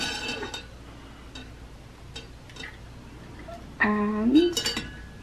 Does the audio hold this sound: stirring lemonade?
yes